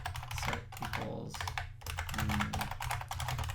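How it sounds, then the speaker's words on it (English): A loud computer keyboard clatters in fast, continuous bursts of clicky keystrokes, with a brief pause partway through, close and distinct. "I'm using my loud keyboard, sorry."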